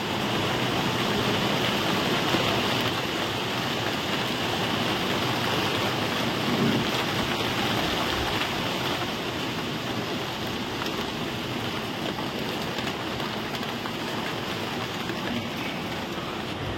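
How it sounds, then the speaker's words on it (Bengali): A heavy monsoon downpour pours down in a steady, dense, unbroken roar that stays loud and even throughout, with no voices. "মুষলধারে বৃষ্টি হচ্ছে, মুষলধারে"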